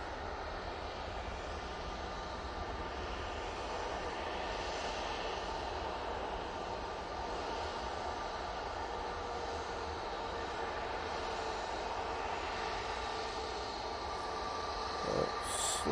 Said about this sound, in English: So, this 320 Neo going off to Lanzarote.